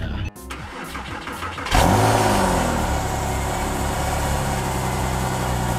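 A Porsche 911 Carrera 4S starts up with a brief starter crank and a loud catch, then settles into a steady, throaty idle close by.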